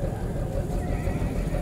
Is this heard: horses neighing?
yes